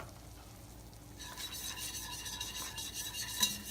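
Flour being stirred into butter for a roux, a close, continuous scraping and rubbing that starts after a quiet first second and carries on steadily.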